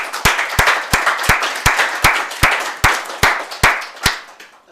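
Crisp, evenly spaced claps ring out in a steady rhythm at an arts talk, each one sharp and echoing in the room, with a faint murmur of further clapping beneath.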